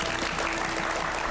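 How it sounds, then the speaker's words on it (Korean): An audience claps steadily in welcome of a speaker at a lecture event, a dense, even wash of applause throughout. "박수로 맞아주시죠"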